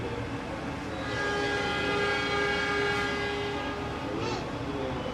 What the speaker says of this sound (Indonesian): Tepat sesuai jadwal, kereta Taksaka diberangkatkan dari stasiun Yogyakarta menuju ke tujuan akhir stasiun Gambir di Jakarta.